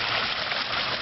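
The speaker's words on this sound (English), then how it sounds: "And there's my shower water coming back out." Shower water pours steadily out of a pipe into a large quarantine and grow-out pond outdoors, a continuous close, fairly loud rushing splash with no pauses and no voices.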